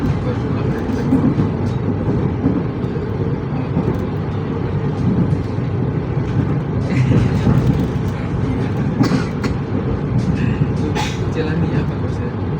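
Steady rumbling of an old passenger train in motion, heard from inside a carriage on the Banyuwangi–Cilacap route, with constant low rattling and people talking throughout.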